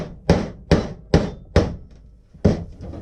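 Sharp metallic hammer blows on a chisel cutting sheet metal for a ductwork transition: five loud, close strikes with a steady, roughly half-second rhythm, then a pause before the last one.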